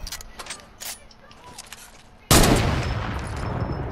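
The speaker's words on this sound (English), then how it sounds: "Somebody's shooting at us, right?" A sudden loud gunshot in the video game Fortnite, hitting sharply after a quieter stretch of faint game ambience and then ringing out into a sustained noisy wash.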